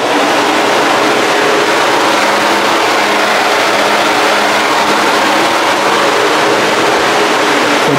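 Electric cooling fans on a 1973 Chevy Impala with a 406 small block V8 give a steady, loud broadband whoosh with a low hum underneath that stays constant throughout, with no voices.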